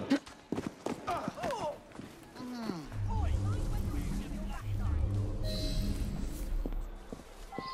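A horse gallops in the video game Assassin's Creed Syndicate, its rhythmic hoofbeats thudding steadily in the second half after a stretch of voices and game sounds at the start.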